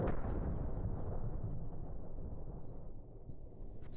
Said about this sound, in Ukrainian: Періодично чути звук прилітаючих ракет.